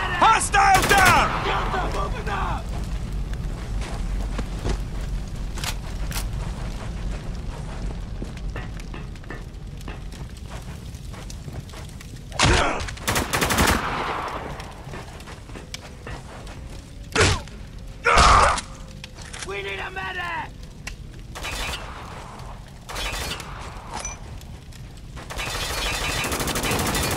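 Heavy gunfire in the video game Spec Ops: The Line, with rattling automatic bursts and sharp single shots mixed with thuds. Shouted dialogue cuts in and out over the near, loud combat.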